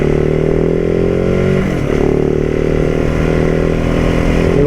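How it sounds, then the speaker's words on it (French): A supermoto motorcycle engine roars loud and close at steady high revs, bouncing off the rev limiter with a brief dip and then holding its harsh buzzing note. "en vitesse, voilà, vous voyez, on atteint vite un rupteur"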